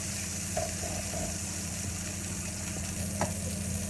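Prawns sizzle while frying in oil in a wok, a steady, moderately close crackle with occasional stirring clinks and no talking.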